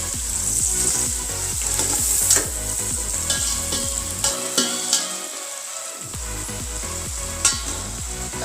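Butter sizzles and crackles steadily in a hot pan while veg pulao is being cooked, a close, continuous frying hiss with rhythmic stirring scrapes, briefly dropping out for a moment midway before resuming.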